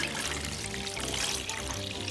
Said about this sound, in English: Now, time to pour in my salt water.